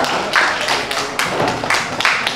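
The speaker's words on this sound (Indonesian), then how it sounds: "Kita kasih tepuk tangan dulu untuk kelompok berapa ya" A classroom group applauds student presenters, with several short bursts of clapping close by and dense hand claps rising and falling in waves.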